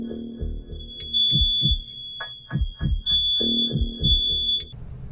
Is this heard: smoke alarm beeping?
yes